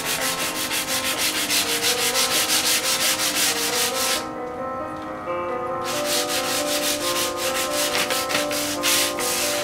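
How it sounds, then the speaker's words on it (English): Coarse sandpaper is rubbed over wooden toy swords in fast, steady back-and-forth strokes, close and continuous, with a short pause partway through before the sanding resumes. "We are sanding the swords."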